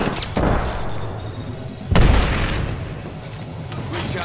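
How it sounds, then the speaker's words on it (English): Grenade blasts in the Apex Legends shooter game, two heavy booming explosions about a second and a half apart, the second louder and deeper, over steady background game noise. "Grenade."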